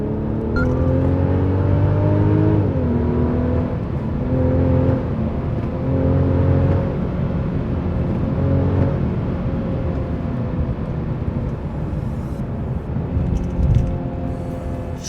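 Mercedes-Benz E350 4Matic AMG Line engine revving in Sport Plus mode, a steady loud cabin drone with rising harmonic pitch that drops sharply at each quick gear change, continuous throughout with no talking.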